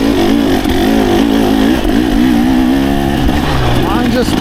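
A 2024 Beta 300RR Race Edition or KTM 300 XC-W two-stroke dirt bike engine revs loudly and continuously on single track, its pitch wavering up and down as the throttle opens and eases.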